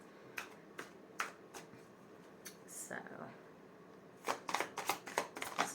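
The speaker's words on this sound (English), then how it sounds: "These cards are so hard to shuffle." Tarot cards are shuffled in quick, crisp riffles and snaps, loudest in a rapid burst near the end, with a person speaking quietly in between.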